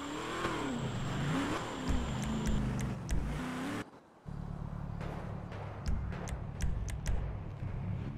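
A car in GTA 5 revs and accelerates hard with a steady engine drone, briefly cutting out midway before resuming, accompanied by scattered ticking clicks.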